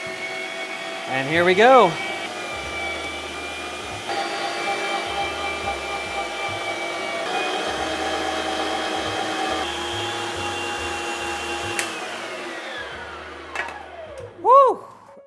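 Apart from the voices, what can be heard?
electric meat grinder coarse-grinding beef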